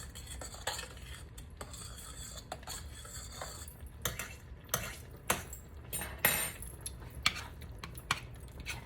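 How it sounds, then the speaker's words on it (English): A spoon scrapes and clinks against a metal pot while macaroni is stirred, with irregular knocks and rattles over a low background hum. "I'm gonna give my macaroni another stir."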